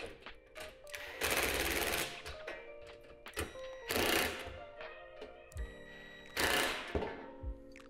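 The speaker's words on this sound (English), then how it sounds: "To make tightening this hardware easier, I like to use a Phillips bit inside a pair of vise grips." Shed hardware is tightened with a Phillips bit held in vise grips, making three longer bursts of rasping, ratcheting metal-on-metal turning, separated by quieter clicks and clunks of handling.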